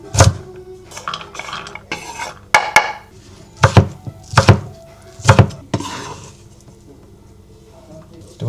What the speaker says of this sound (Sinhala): චිකන් එක තැම්බෙනකන් අපි එළවලු කපා ගන්නවා